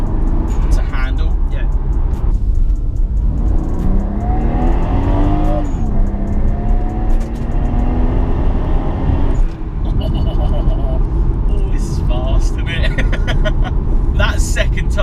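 Twin turbo Toyota Supra MK4 accelerating hard, engine note climbing through gears with shift breaks and turbo whoosh, loud and close from inside the car, with people talking over it.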